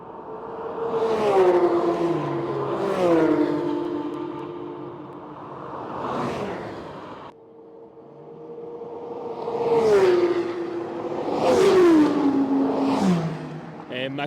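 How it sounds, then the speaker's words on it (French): A McLaren sports car tearing past on a race circuit, its loud, close engine howl climbing and dropping through repeated gear changes before fading, then surging again in a second fast pass. "Et McLaren les gars, ça passe tellement fort"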